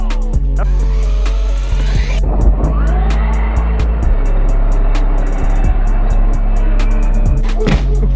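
Traxxas X-Maxx RC truck fitted with a Hobbywing Max6 system and 980kv motor, accelerating hard with a loud, steady electric whine and rough wheel and ground noise, punctuated by clattering knocks and bumps.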